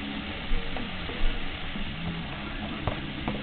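Seafood frying in a pan for a pasta dinner, a steady close sizzle with a few soft bumps and stirring sounds.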